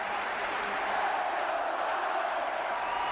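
A hockey arena crowd cheering on their team in chorus, a steady, dense roar of many voices at a distance, even and sustained.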